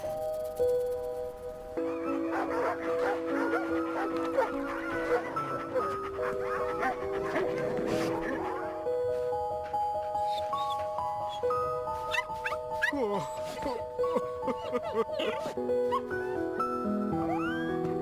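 Dogs bark and yip in the video game My Little Puppy, set in a dog heaven where dogs wait for their owners, heard over steady piano music with scattered barks at moderate distance.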